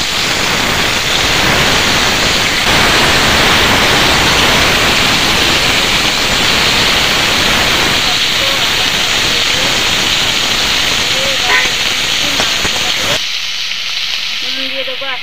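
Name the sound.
onions frying in hot oil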